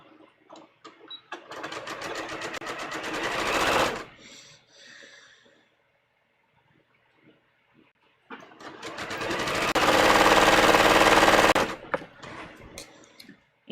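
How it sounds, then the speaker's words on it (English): A sewing machine stitches a dress seam in two long bursts of fast, whirring needle clatter, close and loud, separated by a quiet pause with small handling noises. "And now I'm going to just stitch this other side like this."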